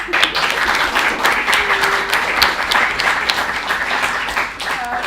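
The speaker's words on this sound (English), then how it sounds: "Can we clap? You can clap." Steady applause from the audience at the ESN Hungary National Assembly, dense clapping that fills the whole stretch at an even level with no pauses.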